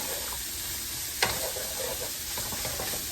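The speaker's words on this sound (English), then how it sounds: "Now I'm going to just cook my veggies." Chopped onion, carrot, celery and green pepper sizzle in a pan, a steady close hiss with a single stir or clink near the start and soft scraping after it.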